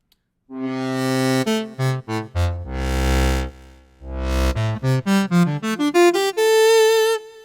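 A dry synthesized cello line plays a slow phrase, then a run of short bowed notes, with no reverb.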